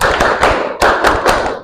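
A classroom group claps hands together in a chanted clapping routine, producing several loud, close, overlapping bursts of claps in quick succession with a dense, roomy wash between them.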